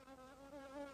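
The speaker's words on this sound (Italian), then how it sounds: "Una zanzara." A single mosquito hums close by with a thin, steady, slightly wavering drone, faint and alone, heard in a scene from the Italian comedy film Innamorato Pazzo.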